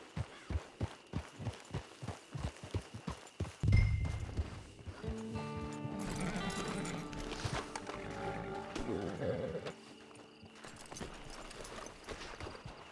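A horse's hooves clip-clop in a steady walking rhythm in the Red Dead Online video game, then give way to a swell of orchestral game music with fainter hoof sounds underneath.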